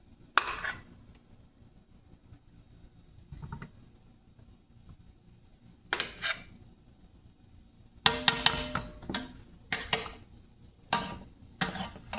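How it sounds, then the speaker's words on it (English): A spatula stirs boiling pasta in a pot, giving scattered clinks and scrapes against the metal, sparse at first and then a quick cluster of sharp knocks toward the end. "Want to take your spatula of choice. I'm using one of these for this one. You just want to stir that around."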